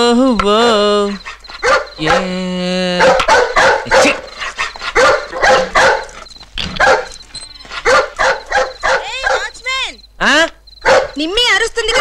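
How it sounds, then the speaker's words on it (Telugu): A dog barking close by in a house, loud sharp barks mixed with high yips and drawn-out whining whimpers, coming in irregular bursts with short pauses between them. "నిమ్మి అరుస్తుంది కదా, బయటికి కక్కకి తీసుకుపో."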